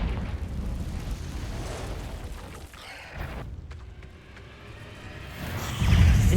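Confringo blasting spells in Hogwarts Legacy erupt in loud, dense fiery explosions with rumbling booms, a brief lull near the middle, then a heavier burst at the end.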